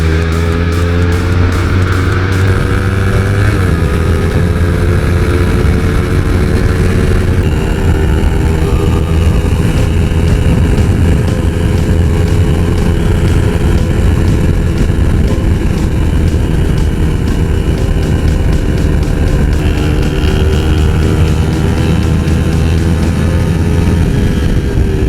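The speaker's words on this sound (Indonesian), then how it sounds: "Motornya lagi meletus-meletus" Kawasaki Ninja 250 motorcycle ridden at around 140 km/h, engine roaring loud and steady with wind rush throughout, popping from the exhaust, and no talk.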